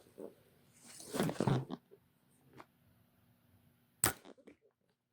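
A Torex XT compound bow shooting an arrow: a sharp, loud release thump with a brief rattling decay, preceded by a softer rustling swell, close by in a quiet setting.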